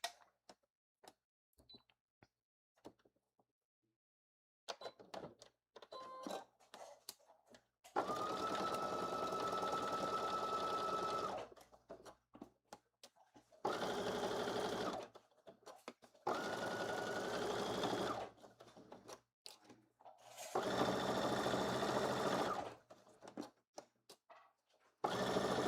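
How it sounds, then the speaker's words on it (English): A sewing machine stitches a fanny pack in several sustained runs of steady mechanical whirring, close and clear, separated by short pauses with light handling noises between them. "now I'm going to sew it in place"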